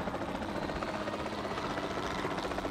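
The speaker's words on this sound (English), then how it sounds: "Let's go, Mr. Helicopter." A helicopter flies in Jurassic World Evolution 2, a steady close rotor thrum with rhythmic chopping under an even engine whine, heard alone throughout.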